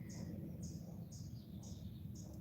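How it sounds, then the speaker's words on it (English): Faint, high chirps repeat about every half second, distant and thin over a steady low rumble of background noise. "I haven't actually heard a bird chirp like that in a long time."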